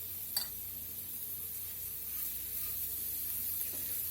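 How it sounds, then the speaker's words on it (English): Seasonings stirred into melted butter in a pan, with onion powder and black pepper in the mix: a faint, steady sizzling hiss broken by a couple of soft scraping strokes, quiet and close, with no talk. "And stir this around this butter."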